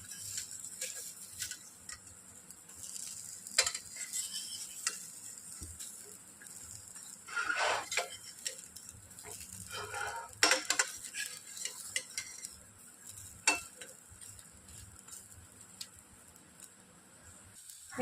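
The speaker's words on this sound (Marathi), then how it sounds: "आपल्याला हे वांग्याचे काप शालो फ्राय करून घ्यायचे आहेत." Brinjal slices shallow-fry in a pan until crisp, giving a steady, close hiss of sizzling oil with occasional clinks and scrapes of a utensil against the pan; no one speaks.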